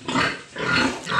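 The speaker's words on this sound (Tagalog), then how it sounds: "Kakarga na ating Mama Pig." A mother pig grunts and squeals in two loud, close bursts with a short lull between, as she is loaded up after purchase.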